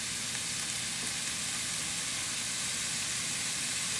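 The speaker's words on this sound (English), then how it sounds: "If you can hear it sizzling, the oil is hot enough" Steady, loud sizzling of hot oil in a pan for Korean beef, a continuous crackling hiss with no voices.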